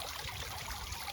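Water pours from a garden hose into a pond barrel, a steady close gush of splashing and trickling with no voices over it.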